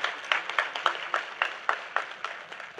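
Scattered hand clapping from an audience at the inauguration of a hospital, a dozen or so sharp irregular claps, fairly faint and thin, heard alone without speech.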